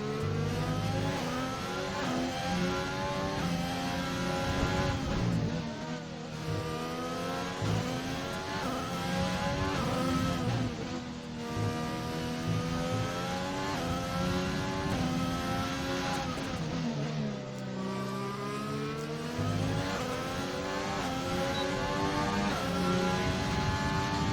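Race cars in a racing video game roar down the back straight, engine notes rising and falling in long sweeping revs as several cars pass one after another, loud and continuous with no voices.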